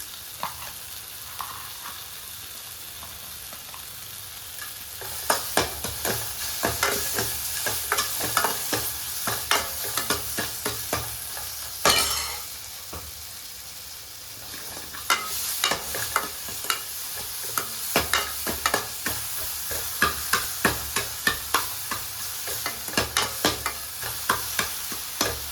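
Tomatoes sautéing in a hot pan for mint chutney, a steady sizzle broken by repeated scraping stirs, close and fairly loud throughout with no talking.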